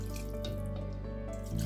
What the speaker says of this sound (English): Now let me put a bit of water